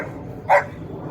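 A single short, excited bark from Daisy, a puppy, close and clear against a quiet indoor background.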